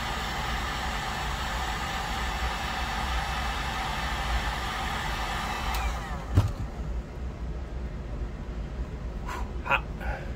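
A hot air tool blows a steady, broadband hiss while heating a kydex molded holster, then cuts off about two-thirds through, leaving faint handling knocks and clicks afterward.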